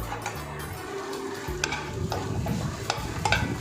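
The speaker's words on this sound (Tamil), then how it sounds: "இப்போது முட்டை எடுத்து அது கூட மிக்ஸ் பண்ணி விடுங்க." Egg stirred and fried with capsicum in a pan for spicy egg noodles: a continuous close sizzle broken by sharp clicks and taps of a utensil against the pan.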